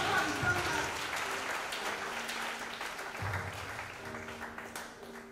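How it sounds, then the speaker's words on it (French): A church congregation applauds for fathers at a sermon, a steady wash of clapping held for several seconds and slowly easing off toward the end. "acclame pour nos papas"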